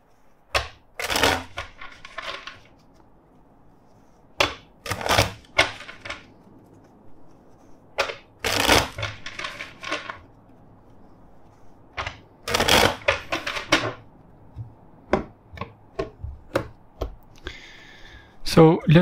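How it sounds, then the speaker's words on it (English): Tarot cards being shuffled in several bursts of crisp riffling and flapping, close and loud, separated by pauses, with a few soft taps in between. "First, let's shuffle four times."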